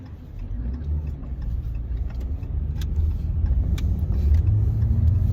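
RAM truck driving past on a frosty morning road, a low rumbling engine and tire noise that swells steadily louder as it approaches, with no talking.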